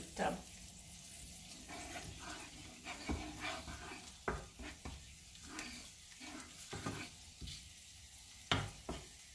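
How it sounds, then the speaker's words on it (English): Basil and garlic frying in a pan for an Italian risotto alla pizzaiola, a low steady sizzle with scattered clicks and stirring taps, heard close and fairly quiet with no talking. "So we just let fry the basil and the garlic a little bit."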